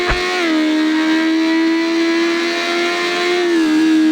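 A motorcycle engine in a video game revs loud and close, holding a steady high-pitched drone with a slight pitch shift near the start and again near the end, heard alone.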